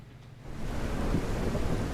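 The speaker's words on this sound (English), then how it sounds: "my car, it gets super loud in the storm" A thunderstorm rages in the survival video game SurrounDead, with a deep, loud rumble of thunder swelling over the hiss of heavy rain, close and continuous, with no voices.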